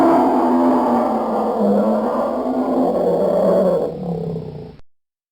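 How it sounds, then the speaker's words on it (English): A loud, sustained bear roar sound effect for a snowy attack scene bellows for several seconds, with a rough, throaty tone that dips and trails off into silence. "to bear roars"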